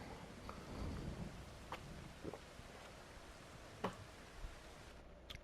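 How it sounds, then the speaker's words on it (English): Rain falls in Farming Simulator 25 as a faint, steady hiss with scattered soft ticks and a few sharper drips, quiet and continuous. "Is it raining again?"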